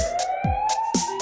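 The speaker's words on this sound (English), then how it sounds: "It's a siren, that's what it is." A siren wails steadily in a children's firefighter song, with light rhythmic percussive taps and short low thumps over it.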